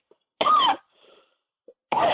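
Two harsh, rough throat-clearing bursts, close and loud, separated by a short pause with faint small noises between.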